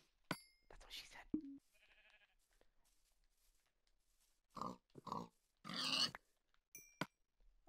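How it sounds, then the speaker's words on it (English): Pigs in Minecraft oink and grunt in short, separate bursts with quiet gaps between them, close and fairly loud, with a few small game clicks in between. "There's so many pigs here."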